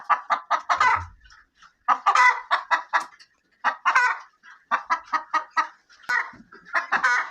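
Hens cluck in busy, repeated bursts of short calls, loud and close, with brief pauses between bouts.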